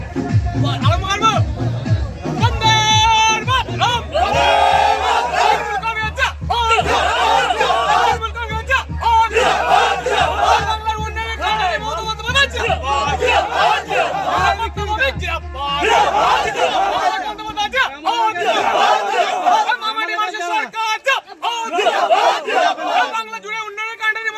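Trinamool Congress supporters celebrating through the night, a dense crowd of voices cheering, whooping and shouting together, loud and close throughout with chatter mixed in.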